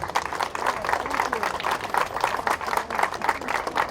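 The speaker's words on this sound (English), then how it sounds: "Can you give them a round of applause, please?" Audience applause at a community presentation honoring a Hispanic heritage council's board of directors, with steady clapping from a crowd throughout and a busy, dense texture.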